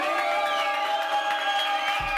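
A rap battle crowd cheers and shouts to vote for a contestant, a sustained loud roar of voices and whoops filling the room.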